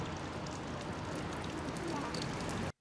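Steady rain falls in a south Wales valley, a dense, even hiss of drops pattering on surfaces that cuts off abruptly at the end.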